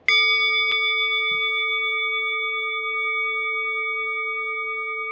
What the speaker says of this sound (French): quand j'entendrai la cloche, je prendrai 3 grandes inspirations